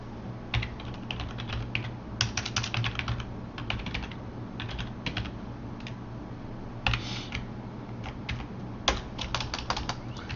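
A computer mouse button clicks repeatedly in quick, uneven bursts of light ticks, close and crisp over a low, steady room hum.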